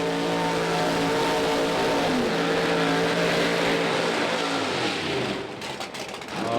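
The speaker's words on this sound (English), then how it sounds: "And that's it, 4078, Montecalvo's car." A Pro Stock drag race car at a PDRA event accelerates down the strip, a loud, sustained engine roar with rising pitch and harmonic whine that fades and thins near the end as the car pulls away.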